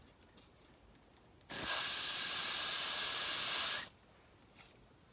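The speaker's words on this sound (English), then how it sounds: "take the got-to-be spray and spray it directly on the brush" A single continuous spray of hair spray onto a brush hisses for about two seconds, close and loud, then stops, leaving quiet room tone.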